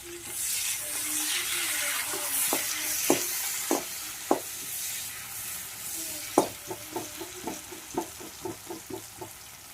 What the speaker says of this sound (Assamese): মই কেৰাহীত পিঁয়াজখিনি দি দিছোঁ মিঠেল তেলতে।